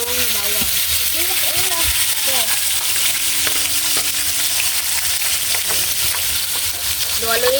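Garlic frying in a pan, a loud continuous sizzle with occasional stirring clatter, while a person talks over it in places.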